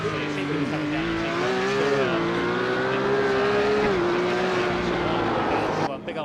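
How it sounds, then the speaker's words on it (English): Porsche Cup car in a sim racing game locking up its front right tire under braking, a loud sustained engine whine that falls in pitch with a squealing tire over it, steady and close throughout. "big old lock up on the front right"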